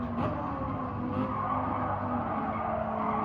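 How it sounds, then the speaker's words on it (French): Race car braking hard from speed, tires squealing in a continuous skid over engine noise, fairly loud and unbroken. "on freine."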